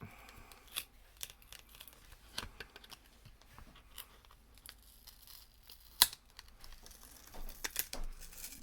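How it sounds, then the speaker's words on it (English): Sticky tape slowly peeling off an original Nintendo 3DS top screen protective cover, in faint, crackly tearing bursts, quiet and close, with an occasional sharper snap. "You can hear the sticky tape just slowly breaking away as we peel it up."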